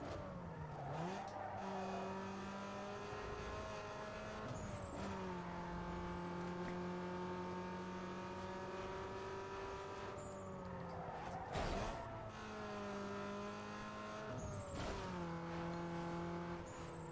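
Racing cars roar through a video game race, engines climbing and dropping through gear shifts with repeated revving sweeps and occasional tire squeal, steady and close throughout.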